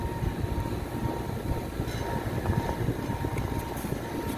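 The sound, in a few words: blower of an air conditioning unit running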